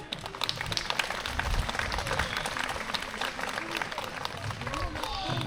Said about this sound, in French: Et on peut applaudir nos petites chouettes effraies.